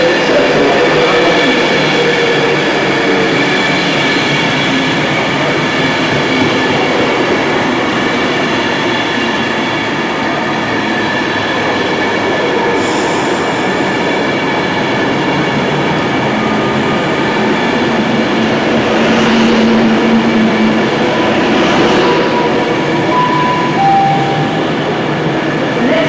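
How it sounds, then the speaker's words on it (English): A train pulls in to Crewe station in Cheshire, its steady rolling rumble and clatter loud and continuous throughout, with a few faint wheel squeals near the end and no talking. "my train should be pulling in now to Crewe"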